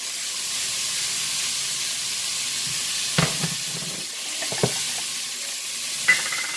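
A pan of salt-seasoned chuck tender roast sizzles steadily on the heat, with a few sharp scraping knocks as it is stirred, close and continuous with no voices.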